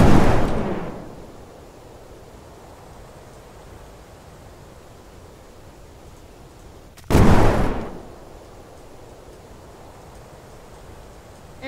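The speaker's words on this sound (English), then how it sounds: "I'm trying to test out guns." Guns test-fired in the Brick Rigs building game let off two loud, close blasts about seven seconds apart, each a sharp burst that fades out over a second into quiet hiss.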